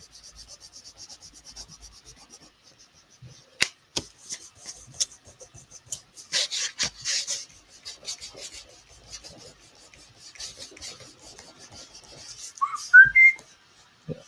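A person whistles a few short, faint notes over a quiet background of rubbing and scratching, with a brief rising whistled chirp near the end.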